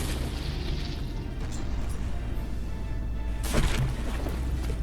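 Naval cannon fire and shell explosions between battleships in the From the Depths game, a steady low rumble of distant booms with a sharper burst near the end, no talking.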